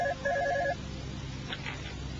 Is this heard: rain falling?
no